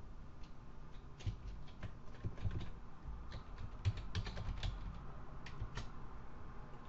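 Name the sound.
typing a Linux command on a computer keyboard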